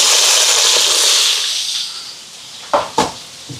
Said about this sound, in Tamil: இப்போ வெங்காயம் வதங்குது பாருங்க